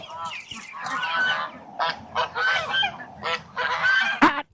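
Geese on a small farm honk and squawk loudly in a run of harsh, overlapping calls, coming in repeated close bursts with short gaps, ending on a sharp final honk.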